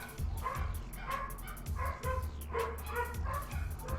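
Dogs bark repeatedly from somewhere off to the side, quick yips and bow-wows in uneven bursts over several seconds, with a faint whimper between them.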